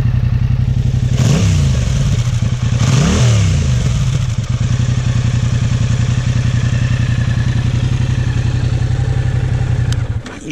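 A 2021 Yamaha MT-07 motorcycle engine, already warm, fires up close by and settles into a loud, steady idle with two quick revs early on, running alone until it cuts at the end.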